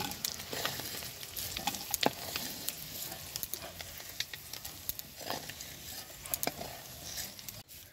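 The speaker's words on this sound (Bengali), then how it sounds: "ঘ্যাটকলের ডাটা আর আলু দিয়ে রান্নার জন্য চিংড়ি মাছগুলোকে আমি ভেজে নিচ্ছি" Shrimp fry in oil for a stalk-and-potato dish, a quiet, continuous sizzle with scattered sharper pops and crackles nearby.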